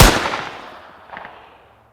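A single sharp rifle-volley crack fired on command, loud and close, decaying into a ringing tail with a smaller second burst of echo about a second later.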